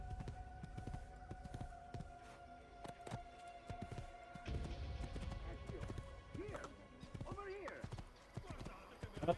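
Horse hooves clip-clop in Assassin's Creed II: Remastered, a steady run of close taps under game music and someone talking, with a brief whinny near the end.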